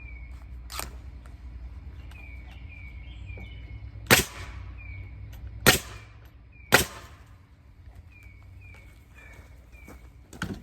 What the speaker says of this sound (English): When nailing 2x6s, you want to nail 3 nails into the end of the stud, evenly spaced.